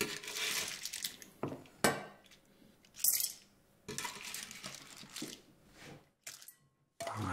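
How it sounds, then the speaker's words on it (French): Cooked cockles being tipped from a pan into a small salad bowl, with a series of clattering shell knocks and scraping clinks against the dishes, some sharp and loud, separated by short quiet gaps. "Je vais débarrasser mes coques dans un petit saladier."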